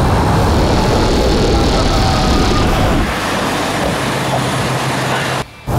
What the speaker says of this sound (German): Ich bin gerade 90 auf der Autobahn mit dem Fahrrad gefahren.